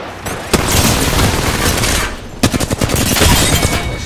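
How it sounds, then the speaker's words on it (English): Gunfire from Apex Legends: loud, close automatic bursts come in two sustained volleys, with a brief lull between them and sharp cracks at the start of each burst. "I just kept shooting in case they came down"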